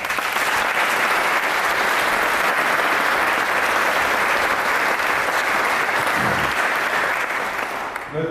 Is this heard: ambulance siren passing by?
no